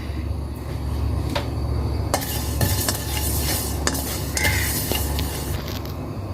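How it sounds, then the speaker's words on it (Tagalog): Sesame seeds dry-frying in a hot pan without oil, a steady sizzle under repeated scraping and stirring with a utensil against the pan and occasional metallic clinks. "Una nating ilagay yung sesame seed. I-fry natin hanggang light brown."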